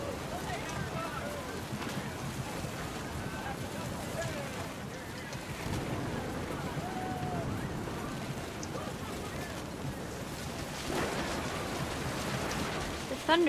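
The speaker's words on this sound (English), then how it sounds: "The rain came down in buckets then" Steady rain pours in the video game What Remains of Edith Finch, a continuous dense wash with gusting wind, heard under a narrating voice throughout.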